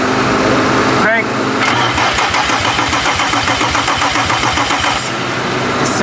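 A JDM car engine cranks, catches and keeps running with an uneven, hollow-sounding compression rhythm close by, a steady loud chugging idle throughout.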